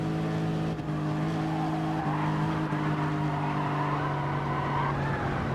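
A Lexus race car in a video game spinning a donut on the Monza circuit, a continuous droning engine note under a broad tire-scrub hiss, with no talk.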